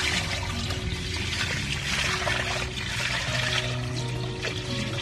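Water mixed with chili seeds pours out slowly from a container, a steady continuous splashing and trickling wash that runs loud and close for the whole stretch, with no voices over it.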